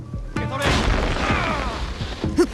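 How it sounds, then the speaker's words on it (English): Explosion from an ally's exploding tricks in the stealth action game Assassin's Creed Shadows, a deep rumbling blast that swells and lingers for about two seconds, with game voices layered over it. "Perfect opportunity to call upon our ally Genojo and some of his exploding tricks."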